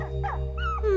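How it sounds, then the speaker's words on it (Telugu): A dog gives soft, high whimpers and whines, several rising and falling cries in quick succession, close and fairly clear over a steady low hum. "ఈ కుక్క నాదే."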